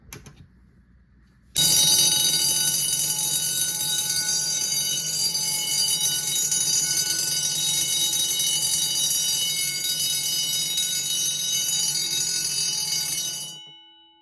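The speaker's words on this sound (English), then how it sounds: "Have a twin version of a 9322, and then have a 2903 light plate to mount it on" A twin-bulb System Sensor 9322 fire alarm horn mounted on a 2903 light plate blares continuously for about twelve seconds, loud and close, a steady harsh electronic tone rich in high harmonics that cuts in sharply and fades out at the end.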